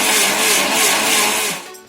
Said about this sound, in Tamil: இப்போ இந்த சட்னியை அரைச்சி எடுத்துக்கலாம்